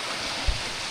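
Floodwater rushing past houses in a village after a tropical storm, a steady, loud broadband roar of flowing water filling the whole moment with no voices.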